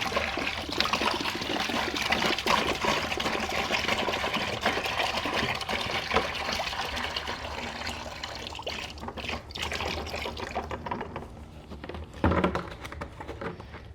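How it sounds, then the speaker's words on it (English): A gallon of filtered rainwater pours steadily in a continuous splashing, trickling rush that fades toward the end, with no voices. "Now next we're going to do 1 gallon of our filtered water or rain water"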